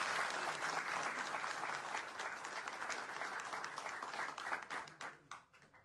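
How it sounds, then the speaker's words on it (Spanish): Applause from an audience at a community meeting in Santiago Oeste, a dense steady clapping that carries on for several seconds and then thins out into a few scattered claps as it dies away. "quiero un fuerte aplauso para ellos"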